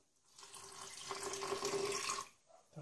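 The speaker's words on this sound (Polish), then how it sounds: "Jednak dodam wody. Idzie woda." Water pours into a blender jar holding chickpea purée for hummus, a short, steady splashing stream of a couple of seconds that stops abruptly, close by and alone.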